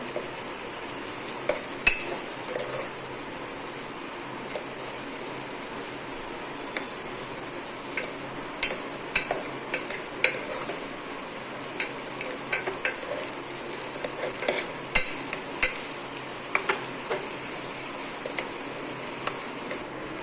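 Stuffed bitter gourds, Kathiawadi style, frying in oil and gently turned, with a soft continuous sizzle under sparse clicks and scrapes of a spoon against the pan.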